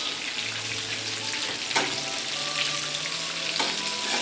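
Toasted sesame seeds get stirred in a heated pan, a soft continuous sizzle with light scraping and a few faint clinks, close and steady with no talking.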